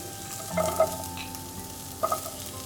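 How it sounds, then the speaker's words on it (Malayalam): Ginger, garlic and onion fry in a little oil in a pan, a low sizzle punctuated by two short bursts of stirring scrapes. "പാനിൽ കുറച്ച് സ്വല്പം എണ്ണ ഒഴിച്ചിട്ട് ഞാൻ അടുപ്പത്ത് വെച്ചിട്ടുണ്ട് അതിലോട്ട് നമുക്ക് ഈ ഇഞ്ചിയും വെളുത്തുള്ളിയും സവോളയും കൂടെ ആദ്യം ഇടാം"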